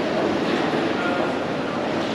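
A Toronto subway metro station gives off a loud, steady rumbling roar of passing train noise and echoing station ambience, with no breaks.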